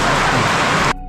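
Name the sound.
heavy rain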